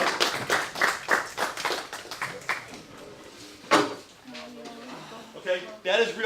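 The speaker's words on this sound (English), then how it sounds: "give him an applause" Clapping from a small classroom group during a loan officer credit activity, several sharp close claps in an uneven burst that thins out after a few seconds, with voices talking over the end.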